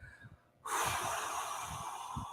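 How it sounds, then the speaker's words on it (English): A person doing deep breathing pushes out one forceful, whooshing exhale that starts abruptly after some quiet breaths and keeps going as a steady, loud rush of air, with soft low thumps beneath it. "Make that noise, that whooshing the air out, and then inhale through your nose."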